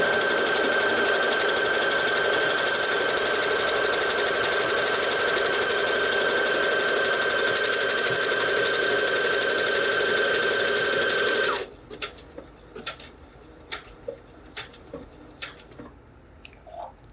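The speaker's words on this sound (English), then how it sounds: "Once the presser foot is down, all you're going to do is put your foot on the foot pedal and it'll do its job." A sewing machine stitches a buttonhole automatically in one loud, steady run with a high whine for about eleven seconds, then stops abruptly, leaving a series of sharp clicks.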